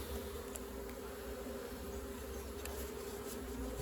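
Honeybees buzzing steadily around a tapped mini nuc box in a backyard apiary, a dense continuous hum close by with no talking.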